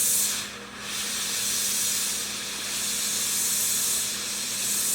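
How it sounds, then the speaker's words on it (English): Propane and oxygen torch burning with a loud, steady close hiss that swells and dips slightly in waves, no voices. "you get used to the sound that your torch generally makes"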